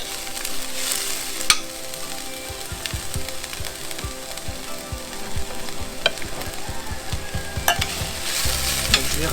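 Mashed giraumon pumpkin sautés gently in a pan over low heat, a steady soft sizzle under repeated scraping and stirring strokes, with occasional sharper clicks of the utensil against the pan, close and without talk.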